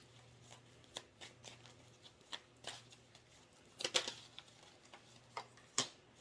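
Oracle cards shuffled by hand to draw a dream card, a run of quiet papery riffles and soft flicks in irregular bursts, close and faint over a low steady hum, with no talking.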